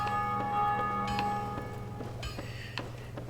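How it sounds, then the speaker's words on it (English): The bells of awakening ring in Dark Souls Remastered, a sustained metallic tone with a few soft struck accents layered over it, somewhat distant and with no talking. "whenever you hear those bells ringing in the background, that means that somebody is ringing one of the bells of awakening"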